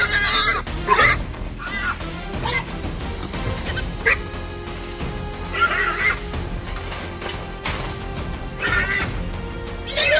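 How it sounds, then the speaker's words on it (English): Several trapped feral hogs crash repeatedly against the iron bars of a steel trap, producing loud irregular metallic bangs and clatters amid squeals and snorts. "Several feral hogs are trapped inside, repeatedly crashing against the iron bars in complete desperation."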